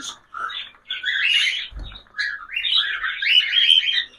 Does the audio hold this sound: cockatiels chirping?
yes